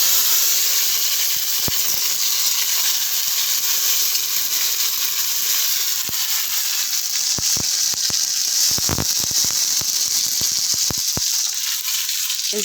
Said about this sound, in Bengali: প্রথমে আমি তেলের উপরে একটু কালো জিরে দিয়ে দিলাম, তারপর একটা দারুচিনি, তারপর টমেটো কুচি দিয়ে দিলাম।